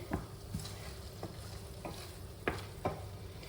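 A spoon stirs tuna pasta in a frying pan, giving a few soft scraping knocks spaced irregularly over a faint sizzle, close and quiet with no talking.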